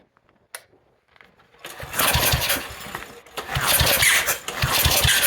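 A John Deere 110 lawn tractor with an 8hp engine runs rough and loud with a harsh, awful-sounding noise. It is near and steady, bursting in after a brief quiet start with a few small clicks.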